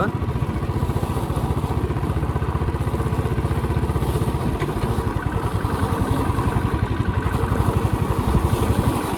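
A motorcycle engine chugs steadily up close with rattling and clatter from a bumpy ride on a rough, broken hill road, continuous throughout.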